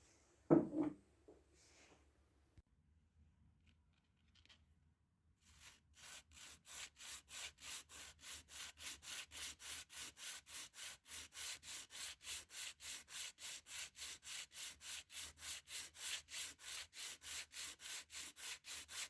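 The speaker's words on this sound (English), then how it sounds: "I'm taking it to my manual hand belt sander" A wooden blank for a miniature Viking axe rubbed steadily on a manual hand belt sander, a quiet start followed by a long run of fast, even rasping strokes, close and with no voices.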